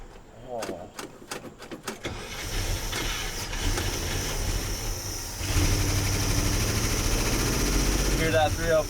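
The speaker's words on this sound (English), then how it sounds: "Hear that 304 purr." An International Scout 304 V8 catches after a few sharp clicks and settles into a loud, steady rumbling idle close by, with brief voices at the start and end.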